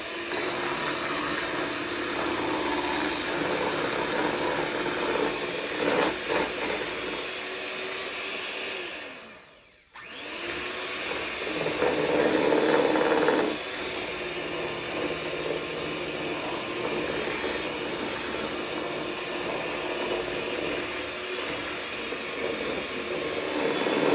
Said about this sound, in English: I'm gonna mix 1 cup of sugar with the egg yolks